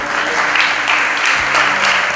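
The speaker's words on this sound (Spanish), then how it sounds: "Vamos a darles un fuerte aplauso." Steady, dense applause from an audience at a wedding-style celebration, filling the whole stretch evenly with no pauses and no voices on top.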